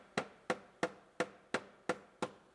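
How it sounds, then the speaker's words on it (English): A hammer pounds out a damaged car body panel on a 2017 GMC Terrain with eight sharp, evenly spaced metallic blows, close and fairly quiet, with no talk. "Now I'm going to hammer it out."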